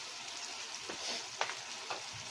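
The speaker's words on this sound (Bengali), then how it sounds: "এভাবে হাত দিয়ে নাড়িয়ে দিব।" Masala egg curry frying in a pan while being stirred, a steady close sizzle with a few soft scraping strokes of the stir rising above it, no talking.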